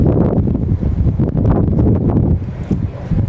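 Strong wind buffets the microphone continuously outdoors in Jerusalem, Israel, a loud rumbling roar with gusty surges throughout.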